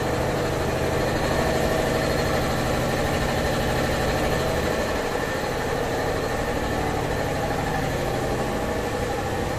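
A genset engine runs steadily at idle in a cave setting, a continuous mid-to-low mechanical drone with constant loudness and no breaks, alone without talk.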